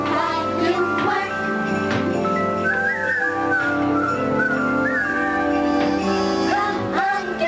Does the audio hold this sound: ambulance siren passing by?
no